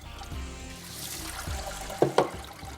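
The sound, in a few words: water being poured off soaked lentils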